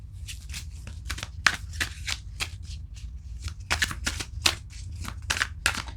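Tarot cards are shuffled close up, giving a run of quick, crisp riffling bursts with short pauses between them and no talk.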